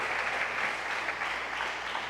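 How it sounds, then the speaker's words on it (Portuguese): Steady, dense applause from a church congregation fills the space with an even wash of clapping throughout the short moment. "Dá um aplauso a ele por isso."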